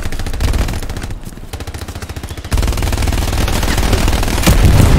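Machine gun fire in the World War II shooter Hell Let Loose, rapid sustained bursts of close, loud automatic shots with a brief pause, then heavier continuous gunfire and a louder blast near the end.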